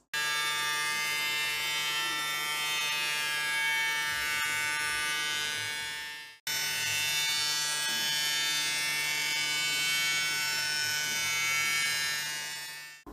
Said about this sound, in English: The first step is the milling of the raw clincher wheels.